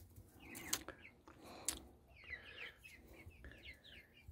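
Soft, scattered clucking from nearby young chickens at a feeder, quiet and intermittent, with a couple of faint clicks and rustles in between.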